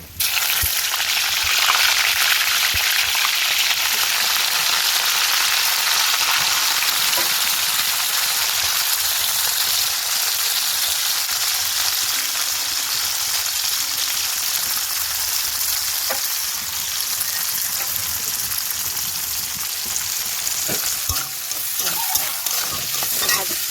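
Cauliflower frying in hot oil, giving a loud, dense, continuous sizzle like steady rain that holds evenly throughout, close up with a few faint clinks of stirring and no voices.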